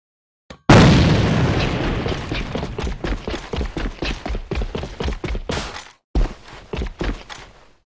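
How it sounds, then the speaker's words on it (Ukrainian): A grenade goes off in the first-person shooter AVA with one loud booming blast, followed by a fast string of sharp gunfire bursts, then a short pause and a few more shots, all close and without talk. "Бросаю гранату!"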